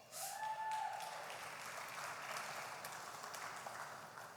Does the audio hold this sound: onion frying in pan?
no